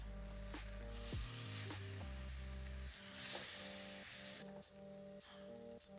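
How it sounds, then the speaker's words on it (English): French toast sticks fry in a hot pan with a steady, close sizzle throughout, joined by a few soft clicks as pieces are moved or turned, with no voices. "I'm now gonna fry these up till they're nice and golden brown on all the edges"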